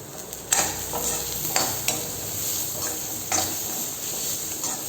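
Onions and coconut pieces sauté in a pan, giving a steady soft sizzle broken by a few scraping stirs of a spoon, close and moderately loud with no talking.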